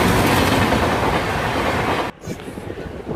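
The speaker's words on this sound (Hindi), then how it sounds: "हमारे बगल से पास हो रही है वही महानगरी एक्सप्रेस" The Mahanagari Express, running from Lokmanya Tilak to Varanasi, rushes past alongside a moving train with a loud roar and rattling wheels, then cuts off abruptly, leaving quieter rhythmic clatter.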